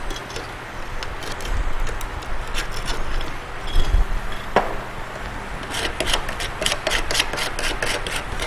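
A putty knife scraping greasy undercoating off a 1967 Chevelle, a steady close rasping and rubbing texture with repeated short scrape strokes that quicken toward the end.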